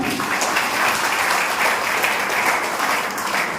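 An audience at a poetry gathering in Machhli Shahar, Uttar Pradesh, breaks into applause, a thick, even roar of many hands clapping that stays level and loud for the whole stretch.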